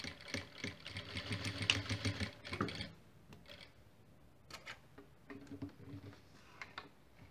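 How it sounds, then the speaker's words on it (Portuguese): Sewing machine stitching a fabric coaster and finishing with a backstitch, a faint rapid mechanical chatter for about three seconds, then a few sparse quiet clicks and handling noises. "E a minha costura vai até onde eu iniciei anteriormente,"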